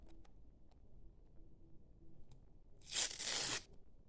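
A single short, sharp tear of paper or a packet ripped open close by, after a few faint ticks in near quiet.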